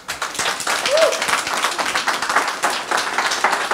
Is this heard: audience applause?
yes